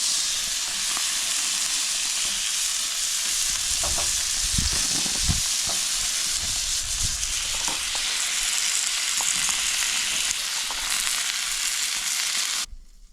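Butter sizzles loudly and steadily on a Coleman Road Trip 285 propane grill, a dense continuous frying hiss with some low crackle and bubbling, running without a break until it cuts off abruptly near the end.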